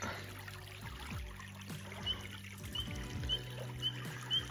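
Quiet river water gently laps and trickles nearby while high, thin tree frog chirps repeat at intervals in the background, with occasional soft knocks.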